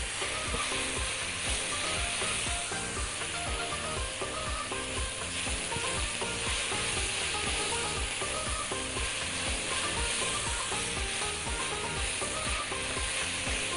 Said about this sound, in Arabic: الرز بيتشوح وهنسيبه يكمل تشويح ويتكرمل هو والسكر والبصل